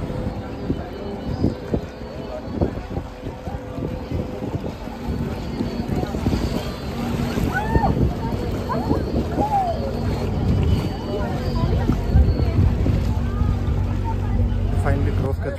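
A boat crossing the Ganges river near Rishikesh gives a steady low engine drone mixed with wind noise on the microphone, with faint voices around it.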